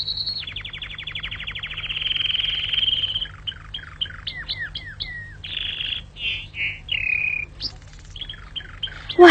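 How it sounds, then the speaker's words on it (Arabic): A nightingale sings in a continuous varied run, rapid trills and repeated whistled notes and chirps, clear and close over a faint low background hum. "والآن أيها العندليب الصغير، غرد مرة أخرى"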